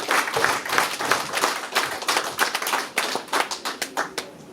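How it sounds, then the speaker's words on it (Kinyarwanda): An audience at a family celebration claps steadily, many hands striking in a fast, irregular patter that swells and fades in loose waves, close and fairly loud. "ese bavuze nabi ngaha mubongera amashyi"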